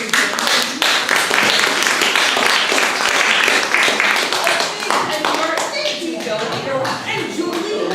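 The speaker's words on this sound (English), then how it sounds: "And Julie, one more round of applause for our hosts here at the Lighthouse" Audience clapping fills a lecture room at a lighthouse venue, a dense, steady patter of many hands that holds throughout and thins slightly toward the end.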